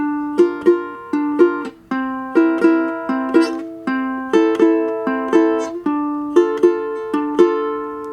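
A ukulele plays a repeating bossa nova fingerpicked pattern, a low thumb note followed by paired plucked chords in a steady, syncopated rhythm, alone and clear.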